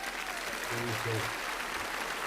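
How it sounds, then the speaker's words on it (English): Steady applause from a crowd, a dense wash of clapping, with a brief voice heard faintly underneath. "Let's give a round of applause to all of our winners."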